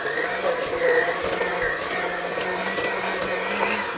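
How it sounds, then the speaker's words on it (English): An electric mixer whirs steadily through tea cake dough with a constant motor hum and a faint grinding texture, close and fairly loud for about four seconds, with no talking over it. "Now I'm just going to mix this in here with my mixer."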